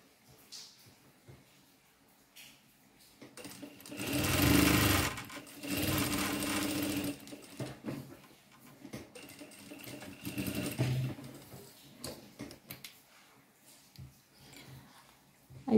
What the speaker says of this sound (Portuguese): Eu passo a costura por cima da marcação aqui que eu fiz. Sempre com retrocesso.